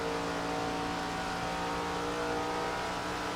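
Super late model race cars in a Florida championship race, engines droning steadily and loudly together on the track with no break or talk.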